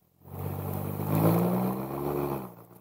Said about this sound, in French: Une Chevrolet.